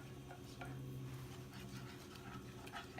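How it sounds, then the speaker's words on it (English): A pot of butter mixture stirred on the stove over medium heat, a quiet, steady scraping swirl with soft clinks of the utensil against the pot. "just stir constantly"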